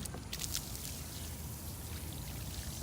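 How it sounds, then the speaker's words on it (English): Faint, steady rush of water pouring and sheeting off a car's back window during a rinse, a soft continuous trickle heard alone from close range. "Run the water off"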